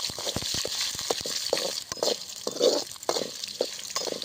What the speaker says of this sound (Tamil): இப்போ பூண்டு போட்டுக்கலாம் பூண்டு இஞ்சி எல்லாம் போட்டுக்கலாம்